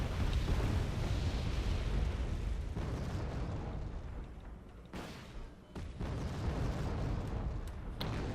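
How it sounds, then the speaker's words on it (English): Bombing runs in the real-time strategy game Wargame Red Dragon: a continuous, heavy rumble of blasts and booms, with sharper bursts near the middle and end and a brief dip in the din. "Some last bombing runs."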